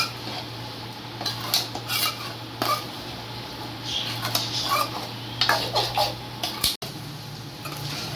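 Pepper chicken fry is stirred in a metal pan, with a utensil scraping and clinking against the pan in an irregular rhythm over a soft sizzle and a steady low hum.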